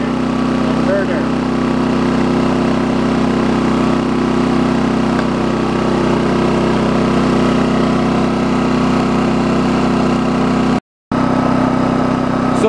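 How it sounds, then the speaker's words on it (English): A Champion 2500 watt dual fuel inverter generator runs on propane with a loud, steady engine hum and a constant tonal whine, a brief dropout near the end, and someone talking over it. "to propane run, and it should start up for us. There we go. Champion 2500 inverter."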